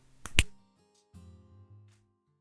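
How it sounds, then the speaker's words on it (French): A single sharp finger snap, crisp and close, followed by a brief soft tonal swell and then quiet. "on va faire ça avec la magie d'un claquement de doigts"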